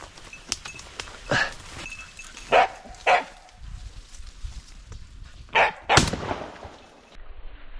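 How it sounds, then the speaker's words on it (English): A hunting gun fires during a wild boar hunt in a forest, several sharp loud cracks ringing out amid outdoor ambience, with a dog barking nearby between the shots. "A second, decisive shot rings out."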